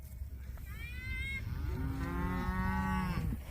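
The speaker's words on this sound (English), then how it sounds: "Now we've got the cows right over close to us." Two or more cows moo, overlapping in long drawn-out calls at close range, over a steady low outdoor rumble.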